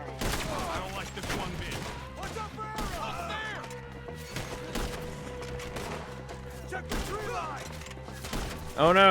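A gunfight in the Red Dead Redemption 2 video game, with scattered sharp shots and impacts spread through the stretch, mixed with in-game voices and a low background music drone.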